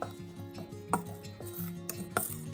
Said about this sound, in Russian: И еще раз все перемешаем.